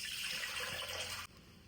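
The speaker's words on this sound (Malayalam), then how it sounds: "ആദ്യം നമ്മൾ വെള്ളം ആഡ് ചെയ്യും." About 400 ml of water pours steadily into a pan for Onam payasam, a close, continuous rush lasting just over a second before it cuts off abruptly; no one speaks.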